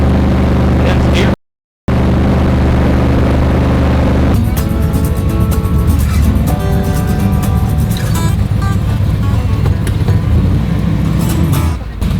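A 1957 gasser car's engine drones steadily and loudly while driving, with a short dropout early on and voices talking over the running engine.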